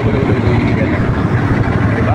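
A ferry's engine runs at departure from Matnog port, bound for Allen, Samar: a loud, steady, broadband drone that fills the whole clip without letup, with a voice faintly over it.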